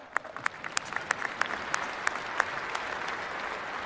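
Keynote audience at a tech conference breaks into scattered applause, claps starting sparse and quickening into a steady ripple of hand claps across the hall, moderately loud with no talk over it.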